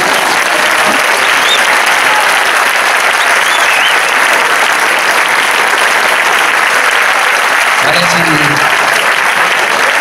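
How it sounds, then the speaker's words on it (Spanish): Loud, dense applause from a concert audience at a music society event, honoring the camera technician; steady sustained clapping throughout with a brief voice cutting in near the end. "un fort aplaudiment per als músics i encara que Rafa s'ha partit la cara al pobre, un aplaudiment per al tècnic de càmera"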